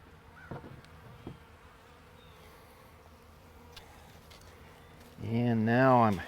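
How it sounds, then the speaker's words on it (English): A low, steady hum of honey bees throughout, with a few taps early on, then a louder, wavering buzz swelling near the end as a bee package is installed into a hive. "now I'm simply going to dump all these bees into the hive"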